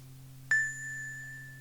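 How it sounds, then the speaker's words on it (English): A single bright bell chime on a cafe counter, used as a sound effect on a 1987 Fireman Sam audiobook cassette, struck once and ringing on with a long, clear decay over a low steady hum. "the cafe bell rang"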